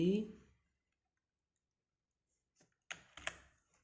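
Computer keyboard shortcut keys are pressed in a quick pair of sharp clicks plus a lighter tap, heard close after a brief spoken phrase at the start, with silence in between.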